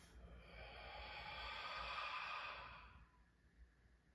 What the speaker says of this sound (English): taking an inhale through our nose and an exhale out the mouth